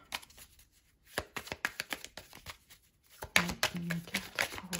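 Tarot cards shuffled by hand in short bursts of crisp riffling and slapping, close and fairly loud, with pauses between rounds and a livelier flurry near the end.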